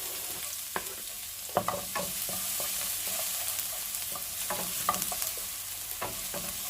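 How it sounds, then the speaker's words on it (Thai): Garlic stir-fries in olive oil in a pan. A continuous sizzle carries repeated clattering scrapes from stirring, close and fairly loud, with no talking. "เราจะผัดแค่แค่กระเทียมพอหอมเนาะ"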